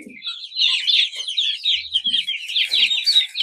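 A brood of around thirty young chicks peeping and chirping in a continuous high-pitched chorus, close and lively, with a few soft lower clucks mixed in and no talking.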